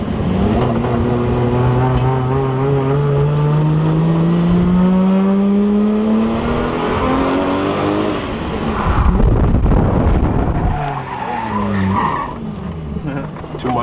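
A car drifting around a speedway track at a drift event, with loud rising engine revs and sustained tire squeal heard from close by, then a burst of skidding roar; people can be heard talking.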